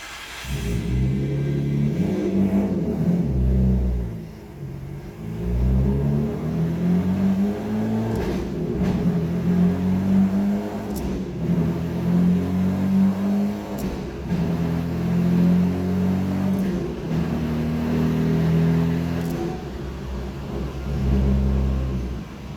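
Nissan Skyline R33 GTR being driven, its engine rising and falling through repeated accelerations and gear changes, a close, loud, continuous rumble heard from inside the car.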